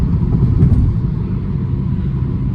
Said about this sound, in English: Such a smooth engine.